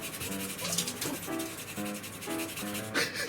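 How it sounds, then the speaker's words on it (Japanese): Ginger rasped against a grater in a kitchen, making steady scraping strokes in a repeating rhythm, soft and close. Faint tonal background sounds run underneath. "生姜のすりおろすじゃないですか"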